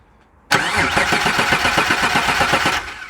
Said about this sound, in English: trigger the starter motor to turn over the car